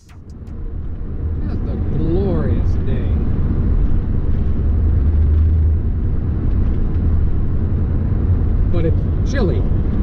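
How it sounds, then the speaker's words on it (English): Steady, loud low rumble of road noise from inside a moving 21-year-old RV, continuous throughout with faint voices in the background. "this is a 21-year-old RV, so if it's windy especially, you're gonna hear some road noise"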